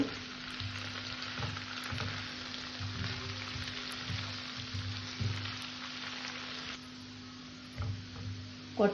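Poppy seed paste sautés with ginger paste in a pan, making a soft continuous sizzle with faint scraping from stirring over a low electrical hum; nobody speaks.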